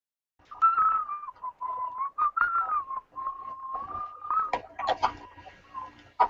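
Someone whistles a wandering, steady tune up close, with soft clicks and taps scattered underneath and a few sharper knocks near the end.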